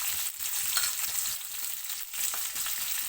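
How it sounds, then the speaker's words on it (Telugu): Sliced onions drop into hot oil with cumin seeds and fry in a loud, steady, close sizzle that swells and dips slightly throughout, with no voices. "ఇకను మనం ఆనియన్స్ వేస్తున్నాం"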